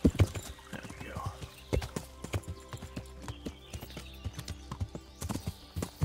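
Hooves clip-clop in an uneven trotting rhythm in the game Kingdom Come: Deliverance, with a horse whinnying partway through and a voice talking over the scene.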